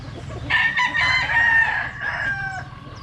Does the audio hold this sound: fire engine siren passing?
no